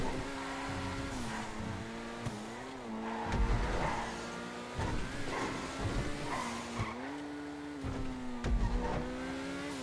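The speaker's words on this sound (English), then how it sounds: "It could be a really, really fun car to drive, the Banshee." The Banshee sports car in GTA 5 drones with a steady engine note that rises and falls through gear changes and revs, with tire squeals and skids breaking in at intervals, loud and close.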